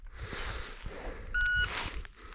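A single short electronic shot-timer beep, about a third of a second long, sounds clearly over faint range background noise at the start of a Glock 48 iron-sight pistol drill.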